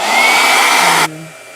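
A blow dryer drying gouache paint on Arches paper, a loud, steady, close whooshing hum that cuts off abruptly and leaves a faint low tone fading out.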